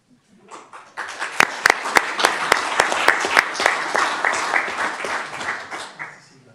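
Applause at a Newark city council meeting greets an arriving honoree, starting with a few scattered claps and then swelling into steady crowd clapping with some sharp nearby claps, holding strong before tapering off at the end.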